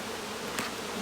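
Honey bees buzzing in and around a hive, a dense continuous drone close up with no voices.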